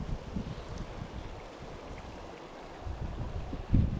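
Water fizzes and bubbles all around a rock by the sea, a dense, steady hiss and gurgle heard close up with a little wind noise and no voices.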